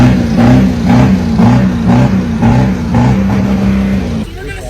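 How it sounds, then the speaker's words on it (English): A Ford F-250 running on fuel made from plastic waste revs in repeated rising bursts, loud and close, before the engine note drops away at the end. "You're gonna see the comparison on how the engines sound, how they rev"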